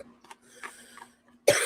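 A single sharp, close cough bursts out at the end after a few faint, scattered background noises.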